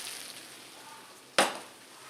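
Vegetables for chilli hit a hot pot with one sudden, loud sizzle burst that quickly fades into a quieter hiss.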